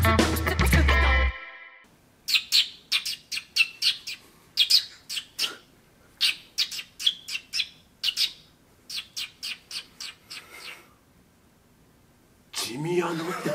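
A man imitates the call of a rose-ringed parakeet, a burst of sharp, high chirps and squawks in rhythmic groups, delivered loud and close, with laughter and talk at the start and the end.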